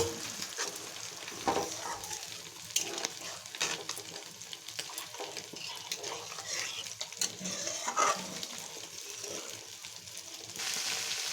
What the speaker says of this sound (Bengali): তখন একটু জল দিয়ে দিন এখানে।